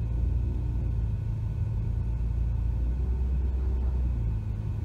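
A Toyota Sienta pulling away on an uphill slope in city driving, heard from inside as a steady low engine rumble with mild road noise, continuous and even throughout with no talking.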